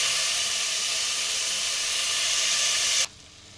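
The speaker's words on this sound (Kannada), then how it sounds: "ಮತ್ತು ಇದರಲ್ಲಿ ಚೆನ್ನಾಗಿ ಫ್ರೈ ಮಾಡ್ಕೊಂಡಿರಿ 1-2 ನಿಮಿಷ" Moong dal and rice frying in a pan for a vegetable pongal, a steady close hiss of sizzling that holds evenly for about three seconds, then cuts off abruptly to near quiet.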